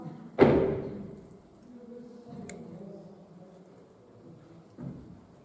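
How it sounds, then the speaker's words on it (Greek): A single loud, heavy foot stamp on a theatre stage during a production of Twelve Angry Men rings out at close range, followed by a few quieter knocks and faint murmurs. "στείλα το πόδι σου, αυτό θα σημαίνει το παίξιμο του πτώματος"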